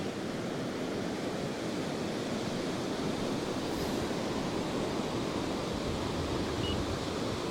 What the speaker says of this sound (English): Up over the ocean, waves.